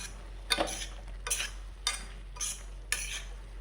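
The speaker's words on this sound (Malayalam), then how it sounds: "ഇനി നമ്മൾക്ക് ഇതെല്ലാം ഒന്ന് മിക്സ് ചെയ്തെടുക്കാം" Spices being stirred into a pan of brinjal pepper fry, giving four or five short scraping, clinking strokes of a spoon against the pan in a steady rhythm, close and fairly quiet, with no talking.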